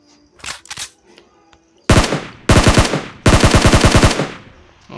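Gunfire in the video game PUBG: a few faint clicks, then three loud rapid automatic bursts, each a tight string of close, sharp shots, the last burst the longest.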